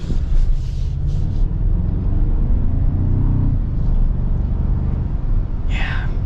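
A 2024 Toyota Tacoma TRD Off-Road with the 2.4-liter four-cylinder accelerates, a loud, rising engine and road rumble heard from inside the cabin, with a brief voice near the end.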